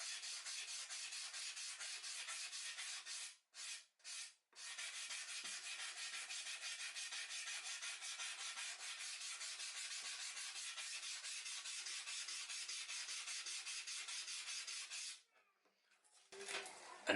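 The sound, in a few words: fine sanding paper rubbing down surface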